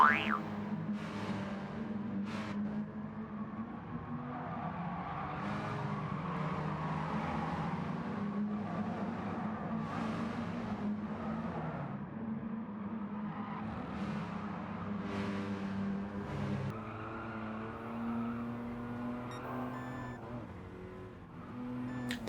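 Race cars in Gran Turismo Sport drone through a race, a steady engine hum from the player's car with rising and falling revs and brief gear-shift blips, no talking.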